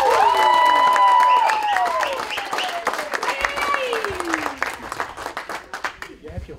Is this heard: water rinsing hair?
no